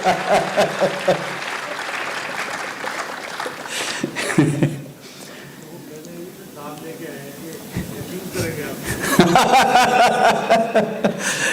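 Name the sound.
audience applause and clapping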